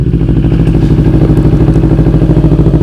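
An old motorcycle with a full petrol tank sets off on a long solo trip, its engine running loud and close with a steady, throbbing low rumble and no break throughout.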